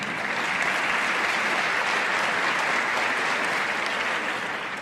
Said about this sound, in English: we should clap about that